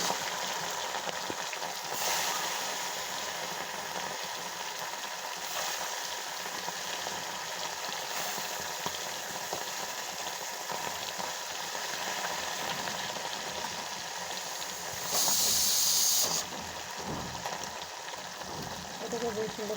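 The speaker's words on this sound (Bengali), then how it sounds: "এটাকে বেশ সুন্দর কড়া করে ভাজবো, যাতে এটা ভাজা থাকে।" Fish sizzles in hot oil, frying until crisp in a home kitchen, a continuous crackling hiss that runs at a steady level for a long stretch.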